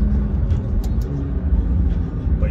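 McLaren 720S engine idling with a low, steady rumble close by, a continuous deep drone without talk.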